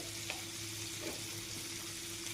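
Pork dry fry cooking in a pan, a faint continuous sizzle with a low steady hum beneath and a couple of soft stirring scrapes, quiet and close.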